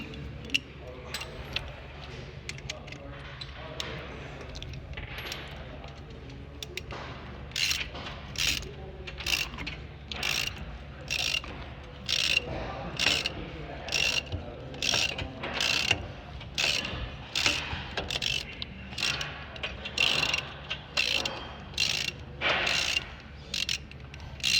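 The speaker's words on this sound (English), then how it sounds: "you want to take the 13mm bolts that go up here and down here and that connect into your slide pins. You just want to tighten those down." Ratcheting wrench tightening 13mm brake caliper bolts on the front brakes of a 2008 Ford Ranger, close up: bursts of rapid clicking repeat steadily over a low steady background hum.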